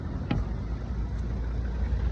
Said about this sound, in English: Almost got hit by a car there